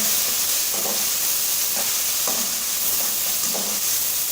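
Tomatoes and fried onions being stirred in a pan for gawar ki phali gosht, a steady broadband sizzle with a few soft spoon scrapes spaced through it, close and alone without talk.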